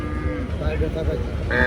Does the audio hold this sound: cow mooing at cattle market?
yes